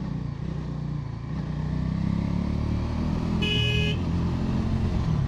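A Bajaj Dominar 350 motorcycle is ridden along a winding road, its engine a steady low drone with wind noise throughout, and a short horn toot sounds briefly near the end.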